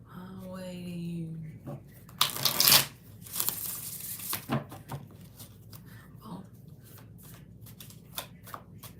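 Tarot cards being shuffled during a reading, a series of soft papery riffles and flutters with one louder burst of shuffling, fairly close and quiet, with faint background sounds.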